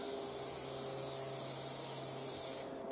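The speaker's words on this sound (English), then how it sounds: "I'm just using this contact spray adhesive" Contact spray adhesive hisses from an aerosol can onto the roof of a 1958 Standard Ensign Vanguard car, a steady close spray lasting a few seconds before cutting off.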